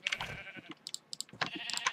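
Sheep in Minecraft bleat in a few short, nasal bursts with quick pauses between them, close and fairly clear, no talking.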